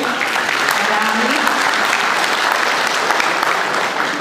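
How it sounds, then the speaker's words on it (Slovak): Loud, dense audience applause at a community event fills the whole stretch, steady and close, with many hands clapping continuously and no pauses. "Takže veľký potlesk aj pre týchto fešákov a dámy."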